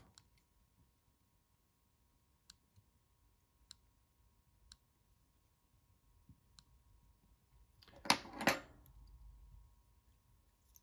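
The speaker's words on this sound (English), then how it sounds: "There's more butt ends sticking out here. I'm going to cut those off." Scissors snip off leftover material butt ends while tying a Sulphur Comparadun fly, a quick burst of close, crisp cutting sounds after a few faint isolated clicks in an otherwise quiet room.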